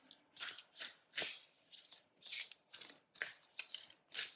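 Tarot cards shuffled by hand, close and quiet, in a series of about ten short riffling bursts separated by brief pauses.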